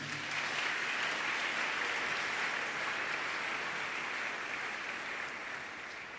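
A church congregation applauds during a sermon, a dense, continuous roar of many hands clapping that holds steady and fades slightly at the end.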